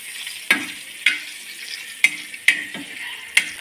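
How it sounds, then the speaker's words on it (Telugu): Eggs fry in a pan with turmeric under a steady sizzle, broken by five sharp scraping stirs spaced irregularly, close and clear, with no talking. "ఇలా ఫ్రై చేసేటప్పుడు కొంచెం పసుపు వేసుకుంటే మంచి కలర్ అనేది వస్తుందండి ఎగ్స్కి."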